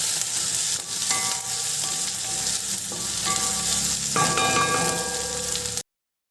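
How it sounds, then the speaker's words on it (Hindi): Green peas fry with onion in a pan for aloo matar shimla mirch, a dense, constant sizzle close to the ear with faint metallic ringing tones, cutting off abruptly at the end. "मटर के दानों को भी हम 1 से 2 मिनट के लिए कुक कर लेंगे"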